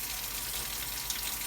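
A Keurig water filter part rinsed under running water with a little soap, giving a steady, close, even hiss of flowing water that holds throughout with no talk.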